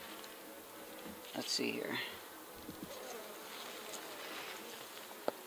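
Bees hum steadily around an open hive being inspected by a beekeeper, a soft continuous buzz with brief louder passes near the middle and a voice speaking over it.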